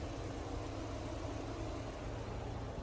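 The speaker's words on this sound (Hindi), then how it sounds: "तो ये था BMW twin power turbo petrol engine." A BMW 330Li with a 258-horsepower TwinPower Turbo petrol engine running, a steady, smooth hum with a broadband whooshing character, constant and fairly quiet throughout with no talking.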